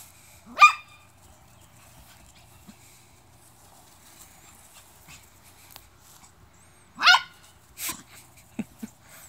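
A Shetland Sheepdog barks in two sharp bursts a few seconds apart while running, then a few quicker yips and rustles, fairly close with quiet gaps between.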